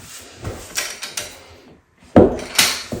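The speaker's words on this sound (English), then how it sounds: "those little blue twisty things, when you twist them on, when you get them tight, the sound it makes is so terrible" Plastic tile leveling clips twisted tight on a floor tiling job, giving several short, loud creaking clicks at irregular intervals, with a sharp squeak near the end and no talking.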